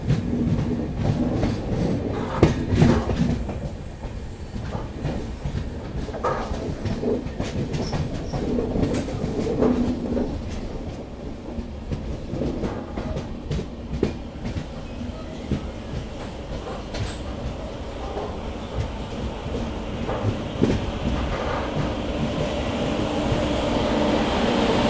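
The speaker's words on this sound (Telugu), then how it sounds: "సో గద్వాల్ జంక్షన్కి అయితే అరైవ్ అవుతున్నాము." The 12797 Venkatadri SF Express passenger train pulls into Gadwal junction, a continuous loud rumble with rhythmic wheel clatter heard from inside the moving train, no talking.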